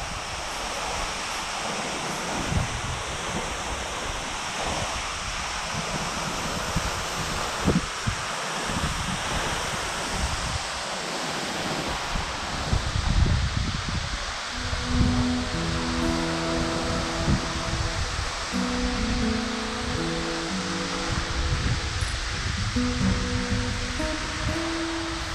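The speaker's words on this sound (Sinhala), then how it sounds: "ඒ කියන්නේ උඩම ඇල්ලයි ඊළඟට තියෙන ඇල්ලයි පේනවා." Duwili waterfall's upper falls in the Knuckles Range, a constant rushing roar of falling water heard steadily throughout, with rustling and occasional knocks and a faint tonal hum in the later part.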